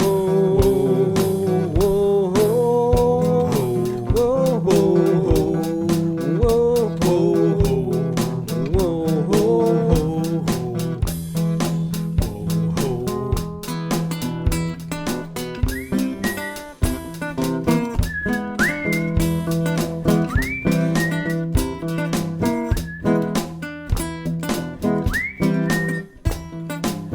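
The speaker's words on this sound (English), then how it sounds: "I can only keep the whistling up for so long." A person whistles a melody at close range, steady tonal phrases carrying on without pause over a constant low backing drone.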